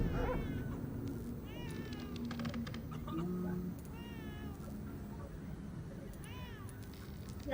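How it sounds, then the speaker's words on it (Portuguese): A cat meows repeatedly in the video game Vampyr, several short rising cries spread across the moment over a quiet, rumbling game background, with faint talk and a few clicks between the calls. "Parece ter um gato por aqui, tá miando?"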